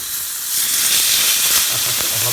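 A meatless steak hits a small frying pan with a teaspoon of sunflower oil, a bright, steady sizzle swelling up after a quiet start and hissing on close by.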